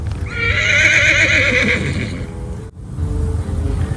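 A horse being trained lets out one loud, close whinny lasting about two seconds, then falls quiet, with faint hoof and ground noise after.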